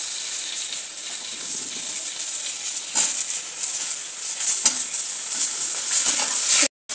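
Marinated chicken hits hot fried onions in a pan with a steady, close sizzle and hiss while a spoon stirs, giving a few scraping clinks near the end.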